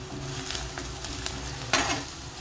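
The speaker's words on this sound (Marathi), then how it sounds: "अशा पद्धतीने कांदा परतून घ्यायचा आहे आपल्याला" Steady sizzling of onions frying in hot oil with curry leaves, with soft stirring scrapes and a brief louder clatter near the end.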